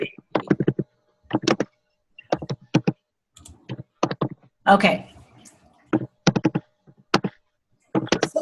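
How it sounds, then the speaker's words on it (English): Bursts of computer keyboard typing clatter in quick clusters with short pauses, fairly close, during an online meeting, while a person says a brief word. "Is somebody typing?"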